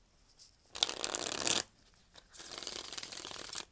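An antique 1890 Grand Tyler tarot deck from Paris, 130 years old, is shuffled by hand in two quick bursts of riffling, crisp papery flutters separated by a short pause in a quiet room.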